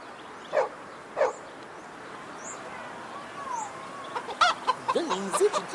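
A live chicken clucks close by, with a few separate squawks followed by a busier run of clucks and cackles; barking-like calls and faint background voices mix in during a domestic scene.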